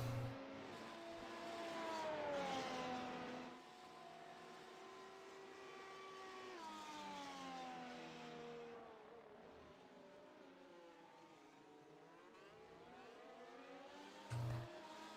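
Race car engines at the Circuit de Barcelona-Catalunya in a Spanish Grand Prix race, among them the Lumos E Motorsports car: high-pitched engine whines that rise and fall through gear changes as cars pass, moderately loud and continuous.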